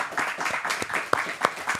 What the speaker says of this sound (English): A round of applause for Timothy Coleman here for hosting